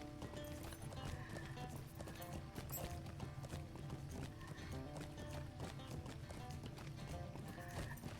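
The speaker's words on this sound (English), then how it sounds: "I remember when I was walking and I got my horse, I thought this horse was so fast." A horse being ridden in the online game LOTRO clip-clops along in a steady, rapid hoof rhythm, mixed with looping game music, quiet and continuous.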